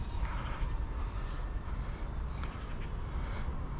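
A UMX A10 Thunderbolt II radio-controlled model jet, powered by a 3S LiPo battery, runs at full throttle with a steady broadband whir and airy hiss that stays loud and constant throughout the few seconds.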